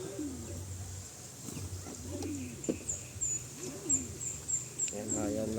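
Several racing pigeons give repeated low cooing calls while being drenched during a bath, close by, with occasional sharper chirps and splashy bursts between the coos.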